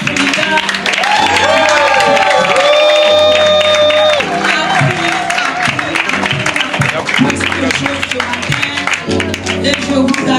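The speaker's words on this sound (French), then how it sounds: "faire un tonnerre d'applaudissements pour notre leader" A standing crowd at a company kick-off event applauds and cheers for their leader, loud and sustained throughout, with music playing and voices mixed into the roar.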